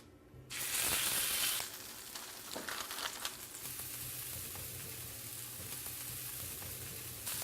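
Burgers fry in grapeseed oil in a pan on a stovetop: a loud burst of sizzling and spattering at first, then a steadier, softer crackle continuing close by without talk.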